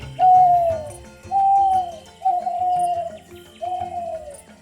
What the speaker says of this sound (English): Owls call out his name and can be heard.